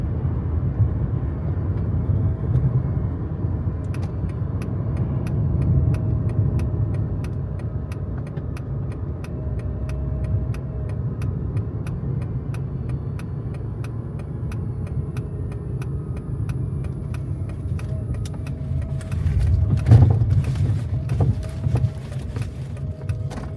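A car cruises along a scenic road with a steady low engine and tyre rumble, continuous and close, broken by light ticking and a brief clatter near the end.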